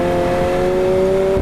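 A 2021 McLaren 765LT with a titanium exhaust hums at a steady, fairly loud engine note, held smooth and even for a second and a half with no speech.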